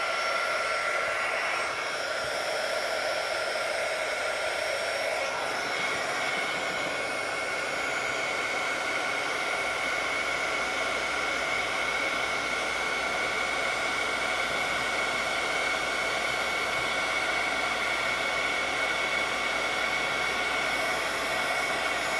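Heat gun melting clear embossing powder on a handmade Halloween card, a continuous close hiss of blowing air holding steady throughout, with no talk.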